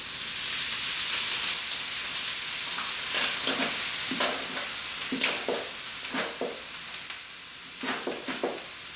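Tomato sauce poured into a pan of softened vegetables, hissing in a steady loud sizzle while a utensil scrapes and stirs in short repeated strokes, no voices.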